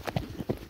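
A horse trotting on a horseback safari, its hooves striking in a quick diagonal two-beat clip-clop, several close, clear hoofbeats alone with no talk.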